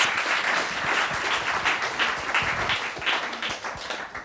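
Audience applause welcoming lecturer Fatima at a lecture on equal citizenship for women and men in Kuwait: dense, steady clapping from a full room, sustained evenly for several seconds without talk.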